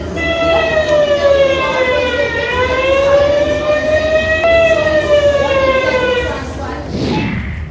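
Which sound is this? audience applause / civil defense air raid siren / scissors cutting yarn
civil defense air raid siren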